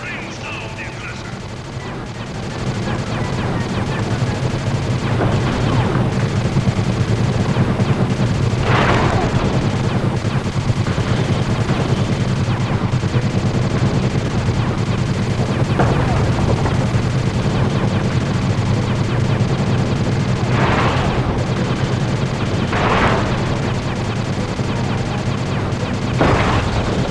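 A gunship fires in the video game Sly 2, with repeated heavy bursts rising over a loud, continuous roar of battle sound that lasts throughout.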